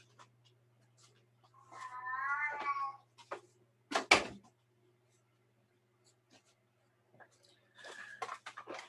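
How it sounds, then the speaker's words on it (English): A house cat meows loudly indoors in a drawn-out, wavering call, followed by a sharp knock or clatter and then a second, shorter meow, with quiet pauses between them. "That's my son's cat making all that racket."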